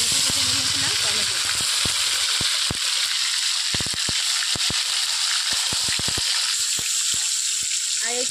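Chopped tomato hits hot oil in a pan for a rohu fish curry, giving a loud continuous sizzle with scattered sharp crackles and pops throughout.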